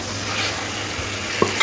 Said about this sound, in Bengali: আলুগুলো মশলার সাথে একটু কষে নেব।